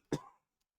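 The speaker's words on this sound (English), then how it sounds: "And then I'm going to have a coughing fit." A single short, sharp cough, close and fairly loud, then quiet.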